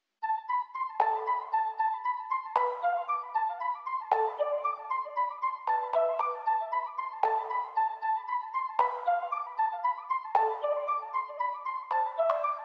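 Flute sample processed with a VHC effect and reverb, built for a beat: a steady melodic loop of bright tonal notes with rich harmonics, phrases restarting about every 1.5 seconds, loud and continuous with no voices.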